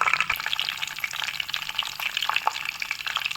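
Boiled potatoes fry in a pan with curry leaves and dried red chillies while being stirred, giving a steady, close crackling sizzle with scraping stir strokes throughout.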